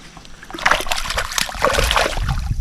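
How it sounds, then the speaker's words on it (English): A caught fish is let go back into the water at night during a fishing tournament, making a close, loud burst of splashing and sloshing that lasts a couple of seconds. "Let's get her back in the water real quick."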